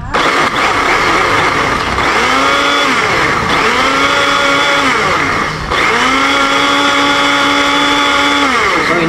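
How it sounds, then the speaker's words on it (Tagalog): A loud electric blender runs close by, its motor whining steadily, with the pitch dipping and recovering in several repeated cycles as it works. "inopen natin kaninang blender."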